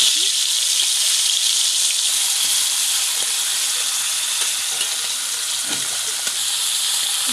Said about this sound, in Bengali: মাছটা ভাজতে দিয়েছি